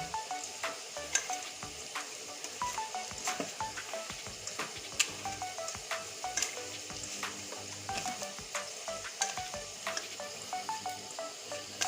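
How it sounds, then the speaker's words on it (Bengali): Soybean chunks for a soybean and potato curry are worked together with spices by hand, giving quiet, steady squelching and sticky rustling with soft clicks throughout, without any talk. "আমি সুন্দর করে এখন মাখিয়ে নিচ্ছি"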